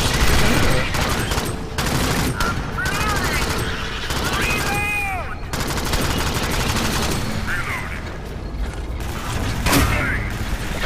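Shotgun fire in the video game Alien Swarm: loud, dense, continuous gunfire and mechanical clatter, with chirpy electronic effects layered over the barrage.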